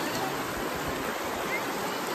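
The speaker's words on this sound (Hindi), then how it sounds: "पानी बहुत ठंडा है और बहुत तेज़ जा रहा है पानी" Cold, fast-flowing river water rushes in a dense, continuous hiss close by, steady and fairly loud without speech.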